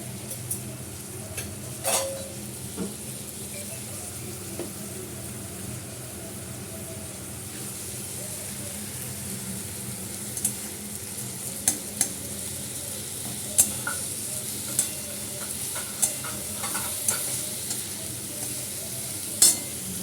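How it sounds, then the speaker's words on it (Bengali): Onion fries in a pan with whole spices and a bay leaf, giving a continuous close sizzle broken by scattered clicks and scrapes from a spoon stirring against the metal. "পেঁয়াজটা ভালো করে ভাজা হোক।"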